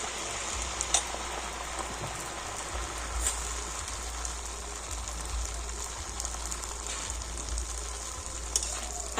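Batter-coated coconut pieces deep-frying in hot oil make a steady, dense crackle and hiss with scattered sharper pops, close by and continuous, with no voices over it.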